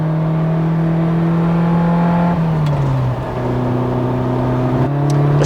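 A carbureted Ferrari 308 GTB engine pulling hard while driving, a loud, steady droning growl that dips briefly as the gear changes midway, then settles back into a sustained rising note.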